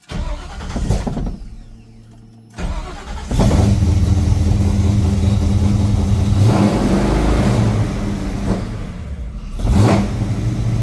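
The engine of a Ford Falcon XB GS, being tuned after restoration, cranks and starts, then idles roughly and revs up in several loud throttle bursts close by. There is one short quiet gap where it stalls.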